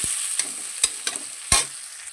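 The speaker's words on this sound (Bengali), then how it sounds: "রসুন কুচি আদা কুচি দিয়ে দিয়েছি" Chopped garlic and ginger fry in hot oil, a bright crackling sizzle interrupted by a handful of sharp spatula knocks and scrapes against the pan, close and loud with no talking.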